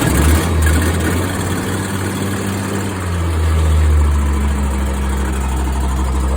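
The engine of an Agrivac 4510 catches and settles into a loud, steady low idle, close by and continuous, with a slight rise in revs partway through.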